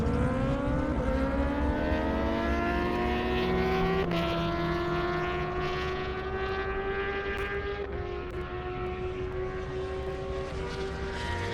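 A Kawasaki ZX-10R motorcycle and a Ferrari F8 racing down an airstrip at a speed event, high-pitched engines screaming and rising in pitch as they accelerate, loud and sustained, then dropping slightly as they pass into the distance.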